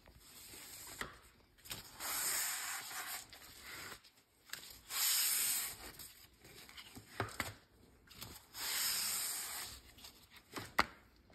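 Excess finish is wiped off a leather belt with a cloth, in faint rubbing strokes that come in several separate bursts a couple of seconds apart, with quiet pauses between.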